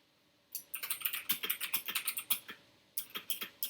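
Rapid clacking keystrokes on a mechanical keyboard, close and crisp, run in a quick uneven burst, pause briefly, then resume for a few more strokes.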